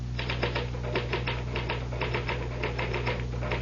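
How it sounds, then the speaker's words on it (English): A typewriter clatters in a radio mystery drama, with a rapid, uneven run of mechanical keystrokes close up over a steady low hum and no voices. "the truth is that the typewriter, or rather, Mr. Gahn, does all the brain work."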